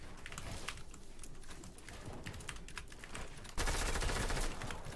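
Rapid bursts of gunfire crackle through a Fortnite match as players shoot out builds, with dense clattering shots throughout and a louder, harsher stretch of sustained fire near the end.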